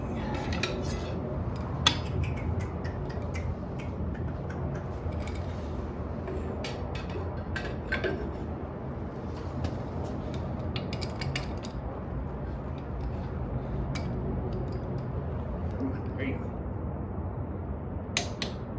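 Metallic ratcheting and clanking of a wrench torquing four clutch bolts to 85 foot-pounds on a John Deere JD300/1020 tractor, close and steady over a workshop background, with scattered clicks and creaks.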